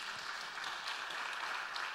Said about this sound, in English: A round of applause to her for doing it in one day.